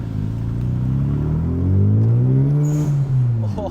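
A 1990s Mazda FD RX-7 rotary engine with a lightweight single-mass flywheel and single clutch revs hard and rises in pitch, loud and close, with a steady droning rumble throughout.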